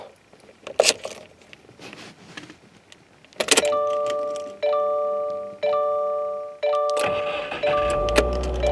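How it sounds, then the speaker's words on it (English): A manual-transmission car starts: keys jangle and click, then a repeating electronic door-ajar chime tones in regular bursts before the engine cranks and catches with a low rumble at the end. "I'm going to take my little key and I'm going to start it up"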